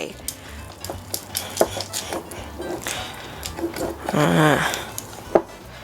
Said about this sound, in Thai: ผสมให้เข้ากัน